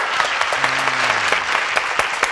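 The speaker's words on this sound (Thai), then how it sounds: "ขอเสียงปรบมือให้กลุ่มสีส้มเลยค่ะ" A group of children and adults clap for a team in a Thai kids' show, with steady, fairly loud applause and sharp individual claps throughout.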